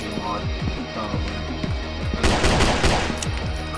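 Rapid gunfire from a handgun in the video game Killing Floor 2, with repeated sharp shots in quick succession that grow into a denser burst, loud and close against a busy game soundscape.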